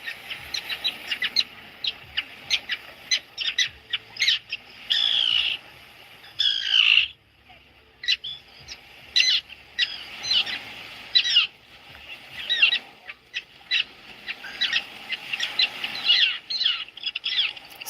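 Repeated harsh bird calls ring out in a steady series of sharp, rasping notes, fairly close and loud, with a brief louder squawking burst midway and no talking.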